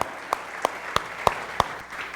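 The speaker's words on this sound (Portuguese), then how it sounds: "Mais um aplauso ao Senhor, amém? Forte" A church congregation claps during a worship service, a handful of sharp, evenly spaced claps landing on a steady beat over a soft background hum.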